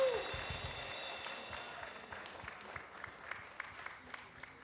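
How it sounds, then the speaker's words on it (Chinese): Applause at a church Christmas concert fades from a full burst into scattered, thinning claps, heard fairly faint against a sustained tone that dies away early. "谢谢我们的和睦小组以及恩慈小组，再给他们一点掌声好吗？"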